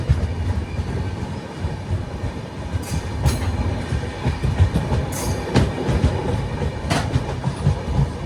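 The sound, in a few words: passenger train running on rails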